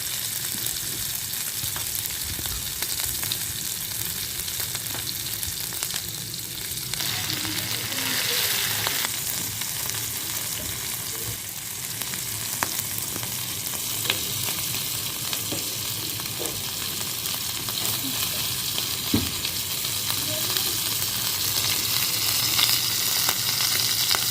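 Beef tikka boti pieces fry in a pan with a strong, continuous close sizzle and occasional pops and utensil clicks, no talking.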